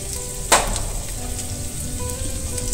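Ginger drops into hot oil in a kadai and crackles with a sudden sharp burst, then settles into a steady, close sizzle with no talk.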